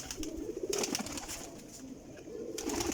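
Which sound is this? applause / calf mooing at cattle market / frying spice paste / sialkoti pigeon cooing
sialkoti pigeon cooing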